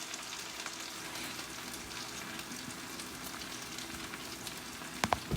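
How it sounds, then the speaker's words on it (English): Potatoes fry in a cast iron pan with a steady, dense sizzle and crackle that holds even throughout, close and fairly loud, with a couple of sharper pops near the end. "this is the proper way of frying potatoes for breakfast or lunch"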